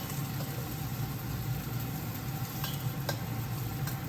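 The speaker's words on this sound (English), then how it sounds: "So now we add the leeks right away. You have to keep stir fry it" Leeks stir-fried in a pan for vegan Chinese New Year dumplings give a steady close sizzle with scraping stirs and a low rumbling hum underneath, alone without talk.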